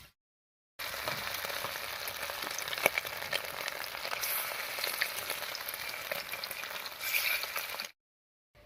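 Lentil fritters (bora) fry steadily in hot oil, a continuous close crackling sizzle with brief louder spits near the end before it cuts off.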